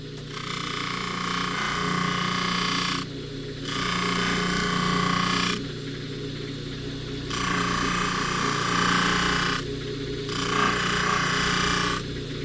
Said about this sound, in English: we're just polishing the rest of the ring so it all matches